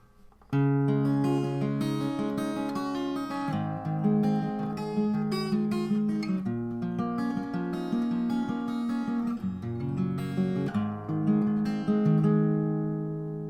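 Solo guitar plays a picked chorus chord progression, arpeggiated notes rolling steadily through several chord changes, up close and uninterrupted by speech.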